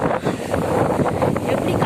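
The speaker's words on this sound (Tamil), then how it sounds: "எப்படி காற்று அடிக்குது பாருங்கள்" Strong, gusty wind buffets the microphone in a steady rushing roar with surging gusts, loud and close, during a windy day when it has blown over overturned pots.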